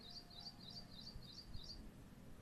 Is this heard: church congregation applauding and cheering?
no